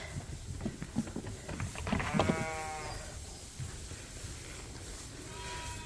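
Sheep and lambs bleating outdoors on a cold sunny day, one clear wavering bleat near the middle with fainter calls and soft background noise around it.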